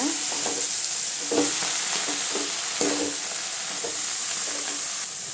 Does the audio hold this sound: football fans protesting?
no